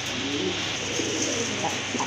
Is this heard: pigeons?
yes